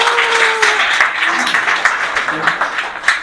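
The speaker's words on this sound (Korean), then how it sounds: "여러분 고생했다고 박수로 한번 격려 부탁드리겠습니다" Audience applause at a banquet celebrating a book publication, a steady wash of many hands clapping for about three seconds with faint voices and tonal snippets mixed underneath.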